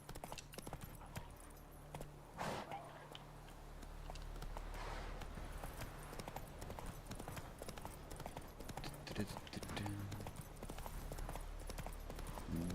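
Horse galloping in The Witcher video game, a quiet rhythmic clip-clop of hooves running continuously under faint game ambience, with no talk.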